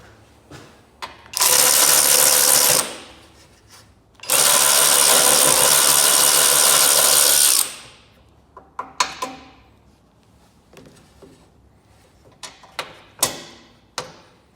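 Work on the side hood panel of an old Ford tractor: two long, loud bursts of a power tool, about one and a half and three seconds long, followed by scattered sharp metallic clinks and taps of hand tools and loose parts.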